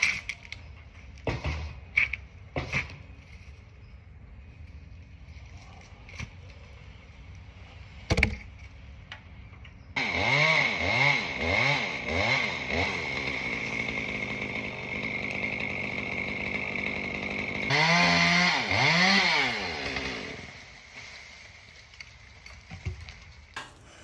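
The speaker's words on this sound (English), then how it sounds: "Let's cut it back at a slant a little bit so it's just not glaring in your face." A chainsaw cuts through a tree limb in two loud bursts, a long run then a shorter one, with sharp knocks and clatter of work sounds before and after, outdoors.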